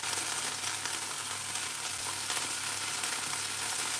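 Prawns fry in a hot pan for Singapore noodles, giving a steady, close broadband sizzle that holds at an even level throughout with no talking.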